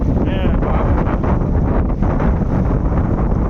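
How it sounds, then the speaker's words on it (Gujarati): Cold wind gusts across Diu harbour, roaring hard and continuously into the microphone as loud, close buffeting that fills the whole moment, with a voice faintly present beneath it. "અને પવન એટલો ઠંડો"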